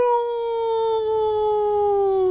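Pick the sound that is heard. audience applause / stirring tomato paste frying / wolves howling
wolves howling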